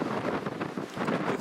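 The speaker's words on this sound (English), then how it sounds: "It's just far too windy as it is." Strong storm wind during Storm Otto at an airport, a rough, gusting roar buffeting the microphone in uneven surges, close and fairly loud, with no voices.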